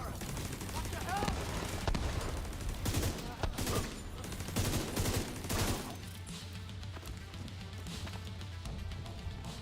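Rapid bursts of gunfire aimed at a turret in The Division 2, dense and close, with several loud volleys through the first six seconds before thinning into a quieter battle din; voices cut in over the shooting.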